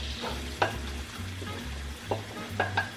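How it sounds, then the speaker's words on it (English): Onion browning in olive oil in a pan, a steady close sizzle with soft scraping and clicks of stirring now and then, no voices over it. "Brown off the onion first."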